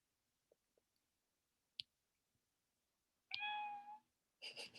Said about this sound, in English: My cat is joining this meeting, sorry.